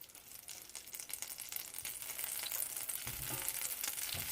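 Butter hits a lightly oiled, preheated pan while making French toast, giving a close hissing sizzle that swells louder and denser partway through and stays strong to the end.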